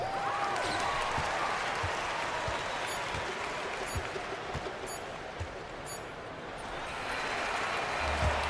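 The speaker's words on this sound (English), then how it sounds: "So the home crowd happy here as they get the victory." A crowd in a basketball video game applauds and cheers at a win, a dense, continuous wash of clapping with faint ball bounces underneath and brief talk.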